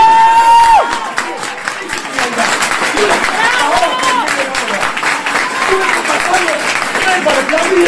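An audience bursts into applause and cheering, with dense clapping, shouts and whistles from a crowd continuing steadily after a brief opening voice.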